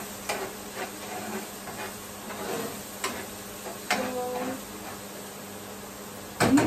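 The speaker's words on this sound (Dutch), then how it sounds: "En dan bak je de uien goed goudbruin door en de knoflook." Onions and garlic fry golden brown in a pan in a home kitchen, a steady sizzle broken by repeated scraping stirs and a few clinks, with a louder clatter at the end.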